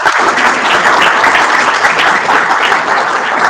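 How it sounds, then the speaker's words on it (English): Audience applause fills the room after a building-industry conference presentation, a dense steady wash of many hands clapping, loud and continuous throughout with no talk over it. "Let's applaud again."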